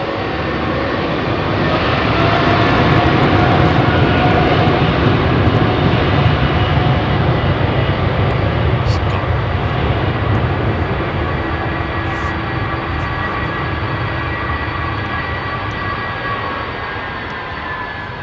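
A jet airliner departs runway 27R at London Heathrow. Its engines build into a loud, sustained roar heard up close, then slowly fade as the aircraft climbs away.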